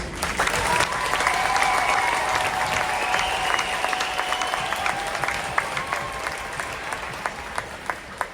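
A school audience at a middle school sixth-grade band concert gives sustained applause for the percussion section, a steady wash of clapping with a few louder close claps picking out toward the end and a faint sustained tone behind.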